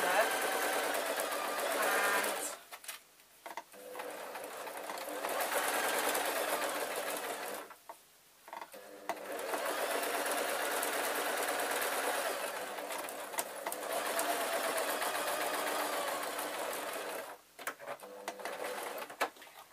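A sewing machine stitches a tote bag in long, loud, steady runs of several seconds each, with short pauses between runs where the motor stops.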